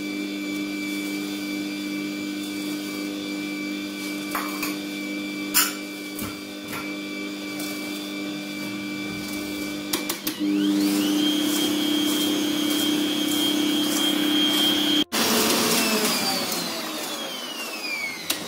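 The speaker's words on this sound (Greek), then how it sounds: "Βάζουμε λοιπόν στο μίξερ μας" An electric mixer beats oil and sugar for cake batter, its steady motor whirring continuously at close range, its pitch shifting partway through as it strains, with brief clatters and no talking.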